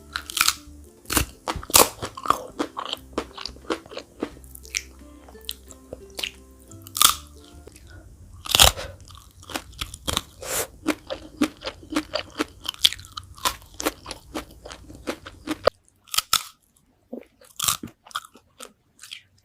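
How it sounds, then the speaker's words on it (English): Crunchy, spicy fried chicken feet are chewed close up, with loud, rapid crisp crunches and crackles repeating steadily, slowing to sparser bites near the end, with no talking. "I love the crunch too."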